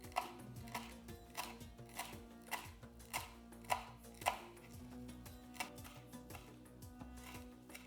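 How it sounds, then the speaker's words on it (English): A knife finely chops parsley and cilantro on a board while Moroccan ground beef and mushroom cigars are prepared, giving a steady series of crisp taps with a few louder strikes and no talking. "Finely chop the parsley and cilantro."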